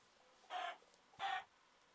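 Two short, quiet clucks from chickens in the blocky sandbox game Minecraft, spaced about half a second apart over a faint, near-silent background.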